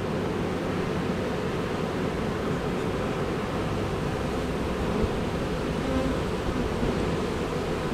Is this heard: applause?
no